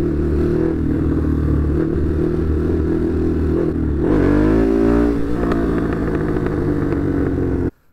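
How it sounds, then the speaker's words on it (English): A Ducati Hypermotard 939 SP motorcycle in an industrial area, its engine loud and close, idling with a rough throb, then revving up and settling again, with no talk. "This is my Ducati Hypermotard 939 SP."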